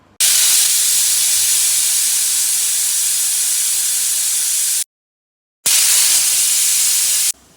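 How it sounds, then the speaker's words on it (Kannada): A pressure cooker with rice and water for plain kushka lets off loud, hissing steam whistles: one long continuous release, a short silence, then a second burst. "ಎರಡು ವಿಸಿಲ್ ಆಯಿತು"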